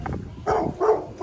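A dog gives two or three short barks or yips nearby, brief and moderately loud against a quiet background.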